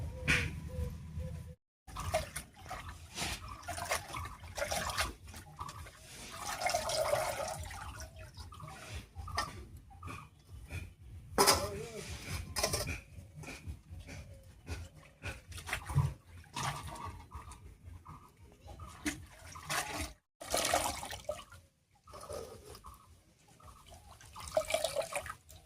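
Fresh jute leaves being washed by hand in water, a long stretch of close splashing, sloshing and dripping with repeated swishes and short pauses.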